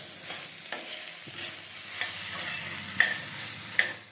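Dried red chillies frying in oil while being stirred, a soft continuous sizzle punctuated by repeated scraping strokes of a spoon against the pan, close and clear with no talk.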